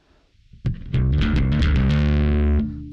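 Bass guitar played through a multi-effects stomp unit set for SansAmp-style distortion with gain at maximum, a heavily distorted, buzzy run of notes ending on a sustained fuzzy tone that fades, alone and close.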